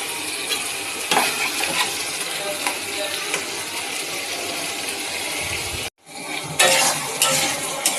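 Spice paste sizzling and being stirred in a pan before tempering Malabar spinach with prawns, a continuous hiss with spatula scrapes and a brief break near the end before sizzling resumes.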